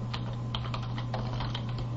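Soft, quick keystrokes tap on a computer keyboard for two seconds over a steady low electrical hum, fairly close and quiet, with no one speaking.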